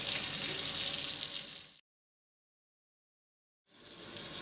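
Extremely hot water runs from a tap into a kitchen sink during cleaning, a loud close steady rushing stream that cuts off completely for about two seconds and then starts flowing again.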